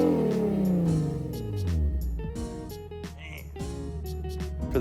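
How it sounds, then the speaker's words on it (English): The engine of a 2000–2007 Mercedes C-Class revs close by, climbing and falling in pitch, while a person talks over it. "Yo, Matt, give me some revs."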